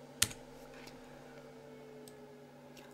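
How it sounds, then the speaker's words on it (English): A single sharp click from pressing the delete key on a computer keyboard, close and brief, followed by a quiet hum. "I'm going to select it and press the delete key on my keyboard."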